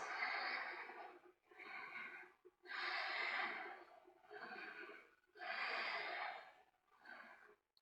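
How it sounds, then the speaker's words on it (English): Deep yoga breaths, about six long audible inhales and exhales in a slow steady rhythm, close and fairly loud with short quiet gaps between them and no talking. "Big breaths."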